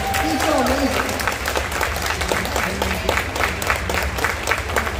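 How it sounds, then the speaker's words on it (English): An audience at a high school end-of-year concert applauds the beginning band, a steady round of clapping mixed with voices and crowd noise throughout. "let's just give them one more round of applause for Britton."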